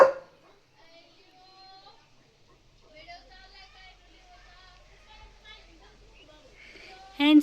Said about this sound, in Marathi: हा बघा आमचा हँडसम लिओ, जो नुसता भुंकत भुंकत राहतोय